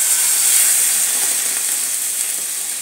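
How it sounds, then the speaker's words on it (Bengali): Milk poured into a saucepan of fried bread pieces for a sweet cake, giving a steady close hiss and sizzle that fades slightly, with no talk. "এবার এই সসপ্যানটার মধ্যে আমি একটু দুধ দিয়ে দেব।"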